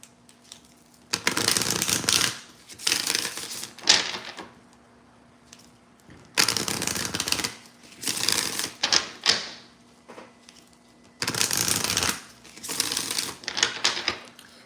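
A deck of chakra oracle cards being shuffled up close, in eight or so brisk papery bursts grouped in pairs and threes with short quiet pauses between them, over a faint steady hum and with no talk.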